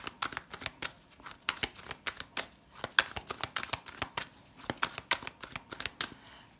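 Tarot cards from a Rider-Waite deck being shuffled up close, a steady run of quick papery riffles and slaps that repeat without pause.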